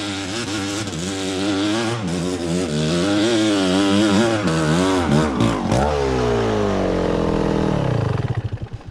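A lightweight Gas Gas ATW trial motorcycle revs hard on rough gorge terrain, its engine note rising and falling in quick bursts, close and loud, before dropping away and cutting off.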